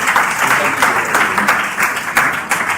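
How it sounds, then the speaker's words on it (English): A seated audience at a Nigerian talk-show taping breaks into clapping, a loud, dense patter of many hands that continues steadily throughout the short stretch. "I thought you were going to clap for that."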